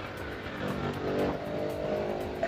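A manual car accelerates during a beginner's driving lesson, its engine droning steadily from inside the cabin, rising slightly in the middle, with no talk over it.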